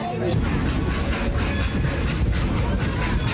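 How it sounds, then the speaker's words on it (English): Steady rumble and rattle of a moving Dollywood theme-park train carriage, continuous and fairly loud, with faint rhythmic clacking of wheels on the rails throughout. "We finally got on the train."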